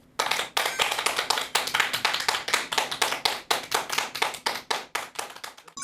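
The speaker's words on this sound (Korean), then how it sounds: "큰 박수 부탁드립니다." An audience claps in rhythmic unison before a family medicine doctor's lecture, steady, crisp beats at an even tempo, close and fairly loud, with no talk over it.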